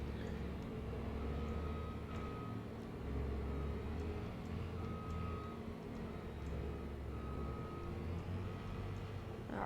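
A 7700 tractor engine idles in Farming Simulator 22, a steady low drone with a faint hum, continuous and moderately quiet, with no talk.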